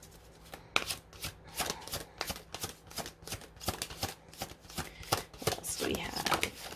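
Tarot cards are riffled and shuffled in quick, crisp repeated bursts close by, with a steady flutter of card slaps throughout, under a person speaking.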